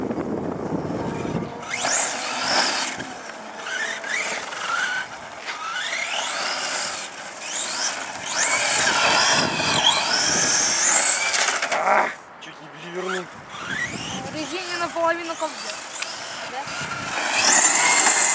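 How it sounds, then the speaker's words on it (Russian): A Traxxas XO-1 RC car motor pushed to full throttle, a loud high-pitched electric whine rising and falling in long sweeping runs, with people talking over it. "Давай полный газ."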